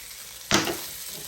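Cabbage and sausage sauté in a pan, with one sharp burst of sizzling close by that fades quickly into a quiet simmer.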